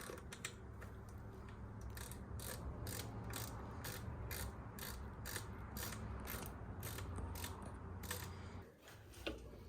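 A ratchet clicks in a quick, regular rhythm while bolts are tightened on a Miata engine, close and crisp, then stops near the end.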